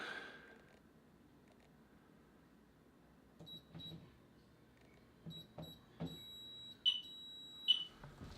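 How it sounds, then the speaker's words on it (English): Several electronic beeps from a security alarm being set sound in the second half, short tones repeating and then holding into longer chirps, over a quiet background of faint rustling. "we're gonna set the alarm and get up out of here"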